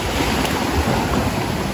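Steady roar of surf at a beach in Glan, Sarangani, with waves washing continuously, mixed with strong wind buffeting the microphone; no voices.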